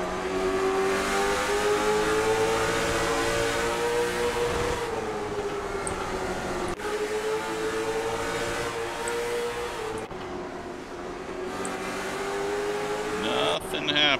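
Race car engine in iRacing at Lanier National Speedway during a CARS Tour fixed-setup race, a continuous loud droning engine note rising and falling with throttle and gear changes, with a brief impact-like break, under a commentator's talk.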